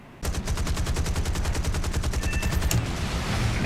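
Machine gun firing in the War Thunder combat game, anti-aircraft bursts against light AA targets, a loud, close, rapid, evenly spaced stream of shots lasting a few seconds with no talk.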